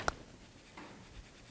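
Soft scratching of ink being colored onto stamped roses on paper, a faint, steady rub of strokes close up after a single sharp tap at the start.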